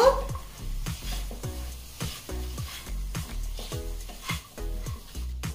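Carrot and semolina halwa being stirred in a pan, with steady rhythmic scraping strokes repeating about once a second over a soft sizzle, close and moderately quiet, with no talking.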